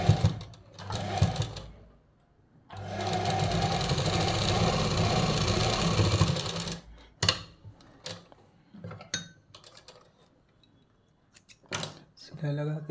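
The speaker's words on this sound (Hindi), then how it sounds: "सबसे पहले आपको जेब में सिलाई लगा लेना है" A sewing machine stitches a kurta pocket in one sustained, close, steady run of about four seconds, with scattered clicks and handling noises and what may be speech around it.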